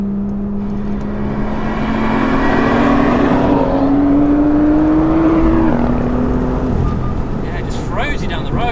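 A BMW M2 pulls hard in third gear, its engine note climbing steadily in pitch under acceleration heard from inside the car, then easing off as someone speaks at the end.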